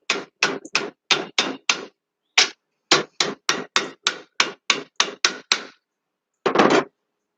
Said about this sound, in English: I'm just basically forming it around the edge of my anvil.